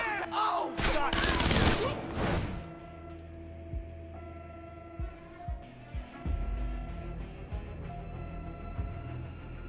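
Bursts of gunfire from the Splinter Cell Conviction video game: a loud rapid volley at first, then a string of separate single shots with pauses between them, over a low background hum.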